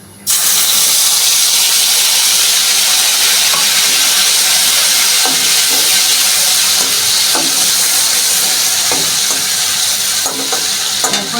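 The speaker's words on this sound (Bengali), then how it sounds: "আমি এখন এর মধ্যে দিয়ে দিচ্ছি আদা জিরে আর শুকনো লঙ্কা বাটা" Ginger, cumin and dry red chilli paste dropped into hot tempering oil bursts into a loud, close hiss that holds steady, with occasional stirring clicks.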